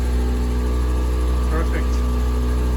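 Sailboat running under engine power out through breakers on a clear day, a steady low engine drone with wind and water noise throughout, loud and constant, with a brief faint voice near the middle.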